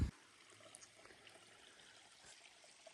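A small creek trickles steadily along a trail, with a soft, continuous water sound that stays faint throughout and has no voices over it.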